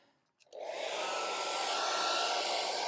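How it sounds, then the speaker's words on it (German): A hair dryer running at its highest 1350-watt setting, powered from an EcoFlow Delta 2 Max portable power station, switches on with a click and then roars as a steady, loud, close whooshing blow with no talk. "der Föhn läuft jetzt auf höchster Stufe, bedeutet 1350 Watt"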